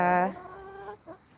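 A house chicken clucks close by, one loud harmonic squawk followed by softer clucking notes, alone with no talk.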